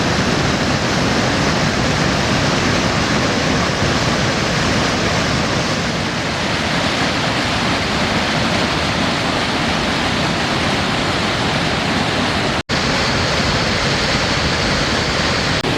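A waterfall in northern Maine, heard from the rocks at its top, pours in a loud, constant roar of rushing water with a brief dropout near the end.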